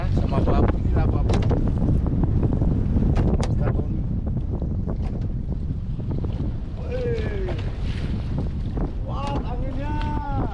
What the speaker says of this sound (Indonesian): Wah, anginnya.